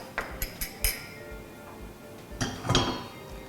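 Several sharp metallic clinks and taps as a frying pan is handled while butter is added, with a scrape and clatter of utensils close by; no talking.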